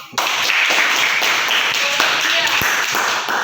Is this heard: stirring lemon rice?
no